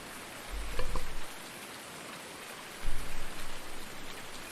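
Rain keeps falling in the Farming Simulator 19 farm game as a soft, steady hiss. Two brief low rumbling swells rise and fade beneath it, and nobody speaks.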